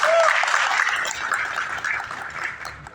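A crowd claps steadily and densely at a speech event, a sustained wash of applause that fades slightly over a few seconds with no voices over it.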